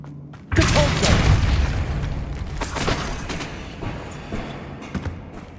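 The Depulso force spell cast in Hogwarts Legacy, a sudden heavy boom that swells into a rumbling whoosh and fades over a few seconds, with a couple of small thuds near the end.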